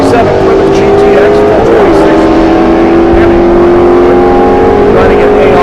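A big block Chevy powered Nova drag car roars loud and close at a drag race, its sustained engine note holding steady under a continuous announcer's voice.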